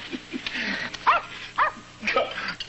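A dog barks and yips in four or five short, sharp bursts, some with a whimpery edge, spaced irregularly and fairly close over a quiet background.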